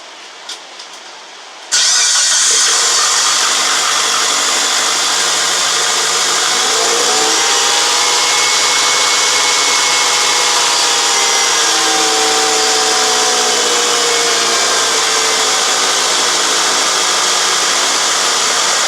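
A 2005 Lancer Evolution engine running with its cooling fans on, a steady loud whooshing drone that kicks in abruptly after a quiet start and holds, close up with no talk.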